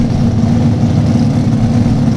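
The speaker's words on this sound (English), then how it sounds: "You're going to hear James Stevens bring the car up on the RPMs to launch it in the left lane." A drag racing car sits at high RPM for launch in the left lane, a loud, steady low engine drone that holds without letup and no talk.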